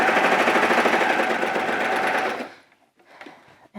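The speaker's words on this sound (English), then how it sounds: "So I'll take that to my serger and we'll serge this one up." A serger overlock machine stitches a fabric seam on a coverall with a fast, even mechanical buzz for a couple of seconds, then stops abruptly, leaving faint handling clicks.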